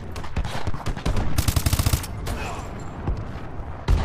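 Loud gunfire in a shooter video game, with bursts of rapid automatic shots and sharp single cracks close by, and a deep boom at the end.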